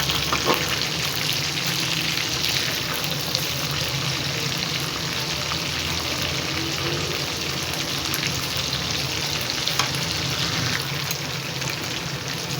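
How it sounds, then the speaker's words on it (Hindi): Chicken frying and browning in oil in a kadai for Shinwari chicken karahi: a loud, continuous close sizzle with a dense crackling hiss that holds steady throughout, with no talking. "चिकन ब्राउन हो रहा है, इसको मज़ीद कुक करेंगे ताकि और ब्राउन हो जाए।"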